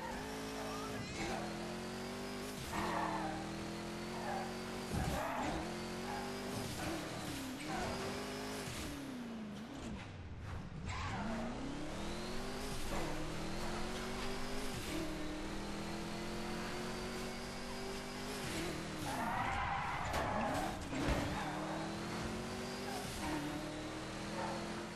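Race car on nitrous boost in the video game Midnight Club: Los Angeles; a continuous loud engine roar with rising and falling revs throughout, sustained and close, with voices talking over it.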